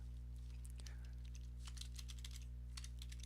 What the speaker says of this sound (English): That sound of the typing right now is me messaging him and not me creating a poll